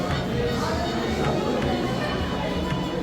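A crowd of visitors at the entrance of the City Palace Museum in Udaipur, a steady indoor murmur of overlapping chatter and shuffling footsteps, with nearby voices talking over it.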